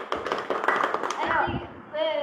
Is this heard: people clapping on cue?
yes